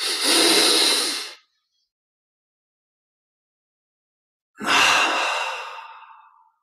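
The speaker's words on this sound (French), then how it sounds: "Une double expire par la bouche." Two long, breathy exhales through the mouth during a guided meditation breathing exercise, each loud and close, the second trailing off more slowly, with silence between them.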